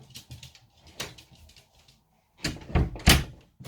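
A door is handled and swung open to let a barking dog out, with a few soft knocks and bumps followed by louder thuds and a latch sound near the end.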